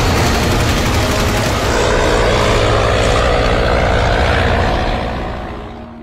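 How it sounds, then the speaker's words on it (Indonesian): Allied aircraft bomb the city of Surabaya in a war film scene: a loud, dense roar of propeller engines mixed with rumbling blasts and gunfire, sustained before easing off at the end. "Hamzah menaiki atap gedung dan melihat porak-porandanya kota Surabaya dibom pesawat Sekutu"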